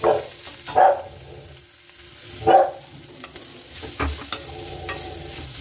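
Carrots with cardamom go into a pan for halwa and are stirred, with scraping and clattering spoon strokes over a low, steady sizzle, close by, and a few sharp knocks in the first half.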